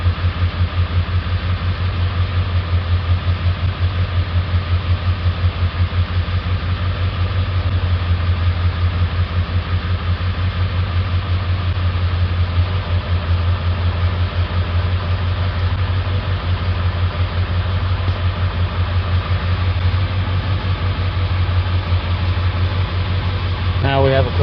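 A 7.3 diesel engine with a bad injector and air still in the fuel system idles steadily nearby, a rough rhythmic low clatter and drone holding even throughout with no pauses.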